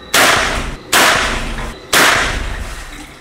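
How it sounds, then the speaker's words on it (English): Three loud, sharp gunshots, each about a second apart, as test rounds are fired into a water recovery tank in a crime lab ballistics room; each crack rings briefly before the next. "we take all of our test shots in this tank"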